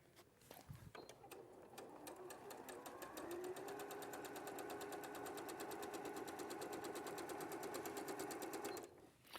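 A sewing machine runs steadily for several seconds, its needle stitching in a fast, even mechanical chatter that starts after a couple of clunks and stops abruptly near the end, close and clear with no talk.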